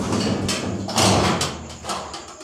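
A corrugated iron gate is pushed along, producing a loud, continuous rattling and scraping metallic roar that swells around the middle and fades slightly toward the end, close to the listener.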